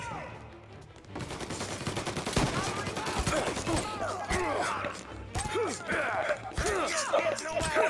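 Rapid bursts of gunfire from Mafia: Definitive Edition, dense crackling volleys with sharp impacts and ricochets, loud and continuous over about eight seconds, with voices shouting in the mix.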